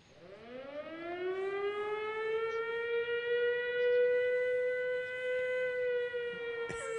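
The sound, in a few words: siren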